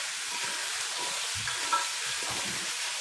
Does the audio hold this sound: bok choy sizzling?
yes